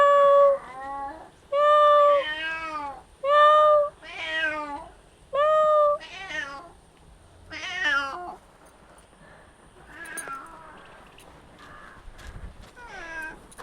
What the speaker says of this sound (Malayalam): പൂച്ച ഇവിടെ ഉണ്ട് കേട്ടോ